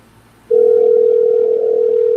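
A telephone dial tone comes in abruptly and holds steady and loud for about a second and a half before a call is placed, with no talking over it.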